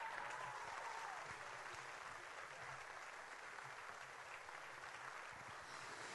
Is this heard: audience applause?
yes